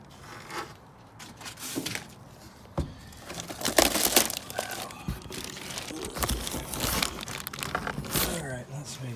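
Packing foam and wrapping crinkle, scrape and squeak in rapid bursts while an SP4 15-inch subwoofer is unboxed by hand, close and busy with uneven handling noises.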